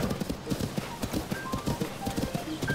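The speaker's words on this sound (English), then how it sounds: "It's quite a fast horse." Fast, rhythmic clip-clop of horse hooves galloping in the video game Tears of the Kingdom, steady and close, with faint background game sounds.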